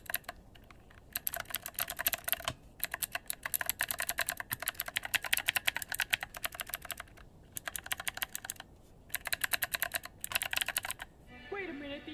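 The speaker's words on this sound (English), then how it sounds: "it actually does have a mechanical keyboard, and therefore I should do a sound test so you can know what it sounds like" Typing on the built-in mechanical keyboard of a Divoom Ditoo Plus, close-up bursts of crisp, rapid keystrokes separated by short pauses, with a faint voice at the very end.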